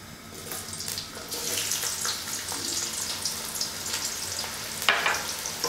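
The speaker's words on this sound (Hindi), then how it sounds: "प्याज को हम लाइट ब्राउन होने तक पकाएंगे।" Chopped onions sizzle steadily in hot ghee in a pan, with close stirring scrapes and brief clinks over the constant frying hiss.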